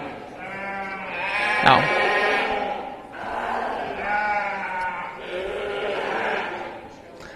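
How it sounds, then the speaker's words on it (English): Blackface ewes of Suffolk and Hampshire breeding bleat repeatedly at a county fair sheep show, several loud overlapping calls from close by with a brief spoken word and crowd murmur underneath. "These are all blackface ewes, so predominantly, if you think breeding-wise, of Suffolk and Hampshire genetics"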